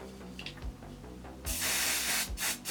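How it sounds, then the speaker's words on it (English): Hairspray hisses from an aerosol can onto hair in a loud, close burst lasting about a second, then cuts off briefly before a second short spray, with no talking over it. "Let's get some hairspray going here."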